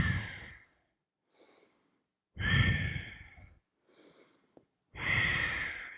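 Deep, slow breaths during a yoga class held in camel pose: three loud, long exhalations or sighs alternate with softer inhalations, close to the microphone, with near silence between them.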